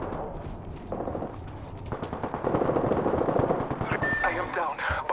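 Automatic gunfire from Apex Legends, with rapid bursts rattling in the near field over a busy battle soundscape and a scattering of other game effects. Speech is faintly present.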